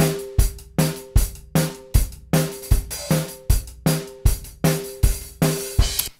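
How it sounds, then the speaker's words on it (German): A completely unprocessed drum kit recorded with two kick-drum mics and snare top and bottom mics, playing a steady groove of punchy kick and snare hits with ringing cymbals, close and loud, with no voices. "Ein völlig unbearbeitetes Schlagzeug."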